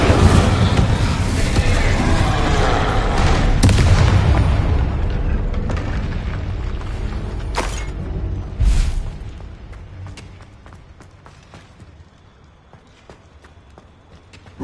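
A fire spell is cast in Hogwarts Legacy, bursting with a loud whooshing blast and crackling roar that swells early, spikes with sharp bangs, then fades into a long dwindling rumble.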